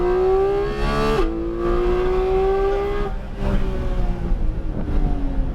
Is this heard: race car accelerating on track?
yes